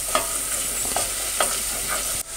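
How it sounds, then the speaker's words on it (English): Onions sauté in a pan over medium heat for a seafood risotto, giving a loud, constant sizzle. Several scraping strokes of stirring rise above it, and the sizzle drops briefly near the end. "we want to cook this on a medium heat without it browning until the onions are soft. So we need to keep it moving"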